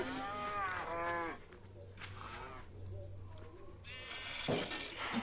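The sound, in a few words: cow mooing in Minecraft video game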